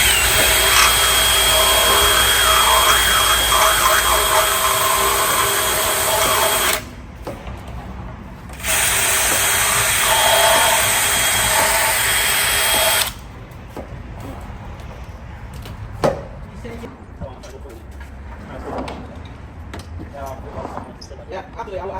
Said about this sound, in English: You have to drill it,